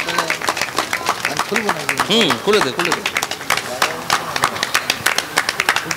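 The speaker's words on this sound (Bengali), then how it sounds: "সবাই মিলে জোরে হাততালি হয়ে যাক।" A crowd claps steadily and loudly at a Ras festival ceremony honouring film stars in Gobindapur, with voices shouting and talking over the applause.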